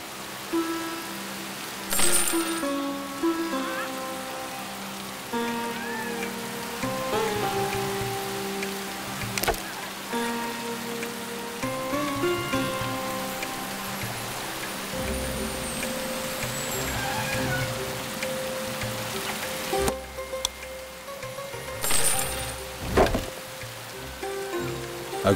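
Rain falls during the rainy season in the strategy game The Settlers, set in the Eastern Realm. It makes a steady hiss that runs throughout, under game music and occasional effects.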